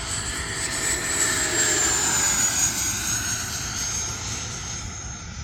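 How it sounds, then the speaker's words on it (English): An E-flite 80mm F-16 model jet airplane roars steadily overhead, its high whine sliding slowly lower as it passes, loud and continuous. "it's such a nice flying airplane to begin with"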